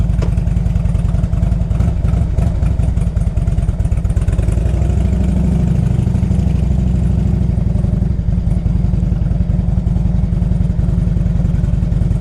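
A 2002 Harley Davidson Ultra Classic with 39,000 miles starting up and idling, a loud, steady, lumpy V-twin rumble close by that settles into an even idle.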